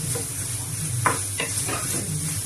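Onions sizzle in a frying pan for a mackerel curry, a constant close hiss broken by a few scraping stirs of a utensil against the pan.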